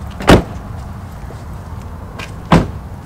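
Car door in a horror short, two sharp mechanical clunks of a latch and door about two seconds apart, close and fairly loud over a quiet background.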